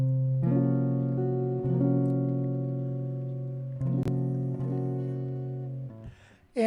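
Heritage H-575 archtop jazz guitar rings out a dissonant tritone substitution chord, struck several times and left to sustain and slowly decay, close and clear with no voice over it.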